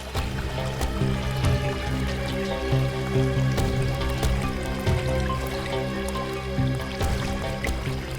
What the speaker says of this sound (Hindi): इस तरफ से पानी के बहने की आवाज आ रही है